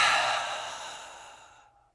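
A single long breathy exhale during the Agni Sara fire cleansing breath, strong at first and fading out over about two seconds, close and alone with no talking.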